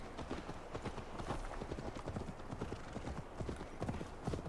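Horse hoofbeats from riding in Assassin's Creed Valhalla, a steady galloping clip-clop of hooves on the ground, continuous and fairly quiet, with no one talking over it.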